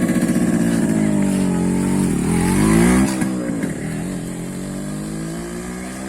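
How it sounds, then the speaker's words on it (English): Motorcycle engine running loud and close, revving up with a rising pitch sweep around the middle, then settling back to a steady idle rumble; no talking. "So we want to show you how the bike sounds"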